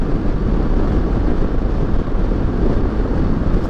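Steady, loud wind rush buffets the microphone on a Kawasaki Versys 650 ABS Tourer 2018 motorcycle cruising along highway BR-408, a constant broadband roar with no breaks.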